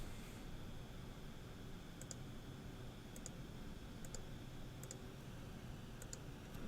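Light keystrokes tap on a computer keyboard in a few small bursts at a steady pace, faint and close over a constant background hiss with no talking.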